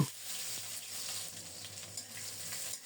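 Panch phoron seeds and torn bay leaves frying in hot oil for a Bengali fish curry, giving a steady, close sizzle with a fine crackle that holds at an even level, with no voices.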